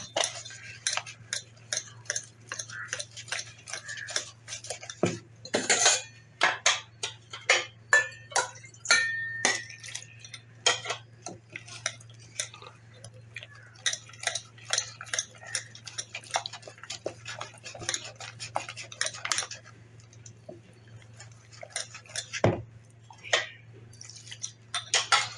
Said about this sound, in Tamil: தண்ணியை விட்டு நல்லா கட்டி இல்லாமல் கரைச்சிக்கணும் பஜ்ஜி பதத்துக்கு